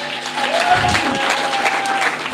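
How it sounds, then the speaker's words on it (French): A church congregation at a Sunday service bursts into loud, dense applause, sustained and close, with some voices mixed into the clapping. "Acclamons-le puissamment."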